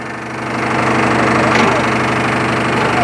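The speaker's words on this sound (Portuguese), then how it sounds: "fazendo um barulho na bomba hidráulica" A Volvo EC210 excavator's diesel engine runs with a faulty, noisy hydraulic pump, producing a loud steady drone with rhythmic knocking pulses that rise slightly in level early on, and no talk.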